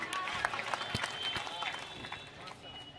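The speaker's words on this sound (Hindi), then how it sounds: "ठोको दद्दा ताली" An audience claps at a Bundeli poetry recital, a burst of scattered, sharp handclaps from a crowd close by, uneven in rhythm and gradually thinning, with a voice speaking over part of it.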